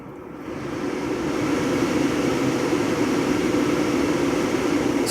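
Steady broadband whoosh of a car's air conditioner blower running on high in recirculate mode, rising over the first second and then holding a constant roar with no talking.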